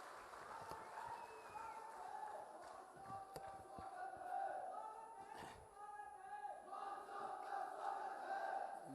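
Large outdoor crowd at a political rally for Punjab Chief Minister Bhagwant Mann in Palampur, Himachal, claps and cheers steadily and loudly for several seconds, with shouts rising above the sustained applause.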